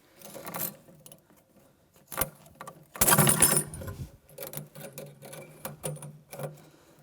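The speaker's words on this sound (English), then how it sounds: "I'm going to use a pair of wire cutters or pliers to cut the zip ties" Sharp metallic snips of wire cutters or pliers cutting plastic zip ties while unpacking a chair, close and distinct, several separate clicks and clacks with rustling packaging between them.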